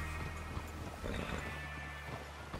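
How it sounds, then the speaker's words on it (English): A horse on a ridge near a water tower, hooves clip-clopping and shifting restlessly under steady wind and a low rumble, moderately near. "Control that horse!"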